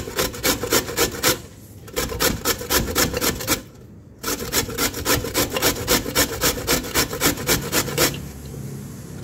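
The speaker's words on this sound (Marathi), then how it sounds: "मी अशी पूर्ण पपई किसून घेते छान।" Raw, young papaya rubbed against a hand grater, a steady run of rapid rasping strokes, close and fairly loud, with two brief pauses and no talking.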